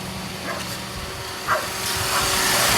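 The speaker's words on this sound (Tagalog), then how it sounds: "Ayun, umandar. Narinig ko yung fan." A Toyota Vios first-generation car's air conditioning fan runs with a steady whirring hum inside the vehicle, along with a few faint clicks and a slight rise in level toward the end.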